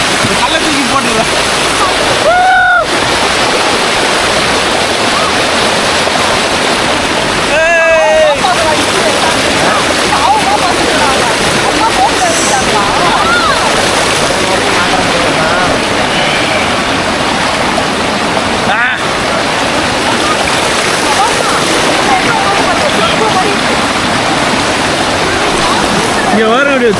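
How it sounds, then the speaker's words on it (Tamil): Water rushing steadily through the Mathoor aqueduct, a tall aqueduct near Nagercoil, makes a loud, continuous broadband roar throughout, with brief voices breaking in now and then. "இங்கே வர எவ்வளோ தண்ணி சூப்பராக வருது"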